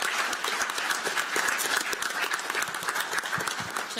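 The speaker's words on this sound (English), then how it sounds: "Can you all give an extra round of applause to Drew specifically" Theatre audience at a PAX Aus 2017 gaming-convention stage show claps for a presenter, dense crowd applause with distinct sharp hand claps, sustained at an even level throughout.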